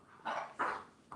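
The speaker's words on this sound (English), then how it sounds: "That's a dog you're listening to in the background." A dog barks two or three times in quick succession, muffled and somewhat distant, in an otherwise quiet room.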